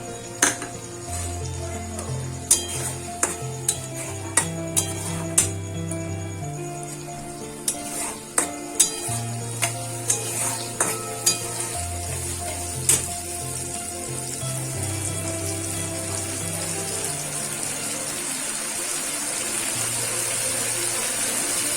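Spice paste frying in a pan for a vegetarian Bengali chana dal, stirred with sharp spoon clacks against the pan over a continuous loud sizzle, with steady background music throughout.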